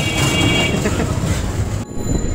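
A metro train runs in Dhaka with a loud, continuous rumble and rattle of carriages, close by, before the sound cuts off sharply near the end.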